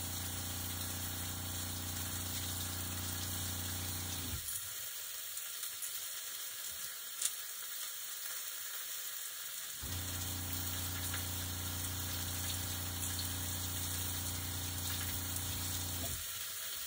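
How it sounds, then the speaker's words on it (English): A household water pump hums low and steady whenever the kitchen tap is turned on. It runs in two long stretches separated by a quiet pause and starts again near the end, with no talking. "That noise you hear every time I turn on the water is actually our water pump."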